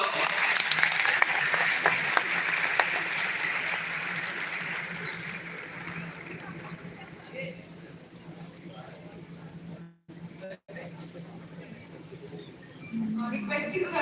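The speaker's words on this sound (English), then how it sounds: "Please give a big round of applause for all of them." Audience applause for the performers and students at a live event, a dense crowd clapping that gradually thins and fades, then picks up again briefly at the end.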